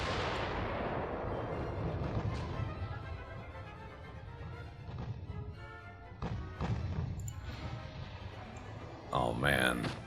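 Warship guns fire in the Ultimate Admiral Dreadnoughts naval video game as a series of heavy, booming thuds spaced every few seconds over a rumbling background.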